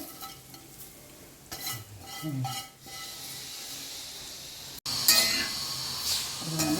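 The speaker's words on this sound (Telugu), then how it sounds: "ఈ గోంగూర కూడా లైట్గా వేపుకోవాలి పచ్చి వాసన పోయే వరకు" Gongura leaves fry lightly in a pan with a soft sizzle and repeated stirring scrapes, quieter at first, then a sudden louder burst of hissing near the end, close up.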